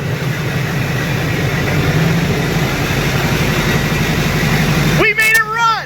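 A Duramax diesel engine fires up after a jump pack start, its low, steady running rumble filling the clip before excited voices break in near the end.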